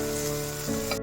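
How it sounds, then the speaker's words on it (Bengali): Poppy seed paste frying in a pan with ridge gourd, drumstick stems, onion and potato gives off a short, steady sizzle close by, then cuts off abruptly. "এখন পোস্তটা ভেজে নিচ্ছি।"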